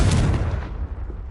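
Confringo explosive spell from Hogwarts Legacy bursting once loud and close, a heavy booming blast that rumbles briefly and fades out with no talking.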